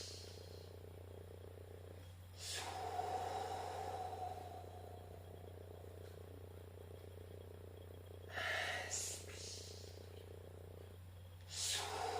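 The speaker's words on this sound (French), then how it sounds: "Et là, tu souffles. Inspire." Breathing during a Pilates workout at home, slow audible exhales and inhales in a few separate breaths, close and quiet over a low steady hum.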